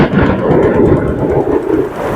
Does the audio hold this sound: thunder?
yes